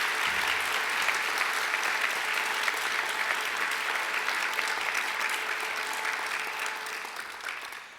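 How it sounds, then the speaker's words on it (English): A graduation ceremony audience applauds academic staff in a dense, steady wash of clapping from a large crowd. The applause holds throughout and tapers slightly at the end. "I'm sure you'd like to give them a great round of applause too."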